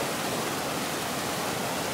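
Water spilling over the spillway of an old reservoir in the rural Brazilian interior, a dense, steady roar of rushing water filling the whole stretch without pause.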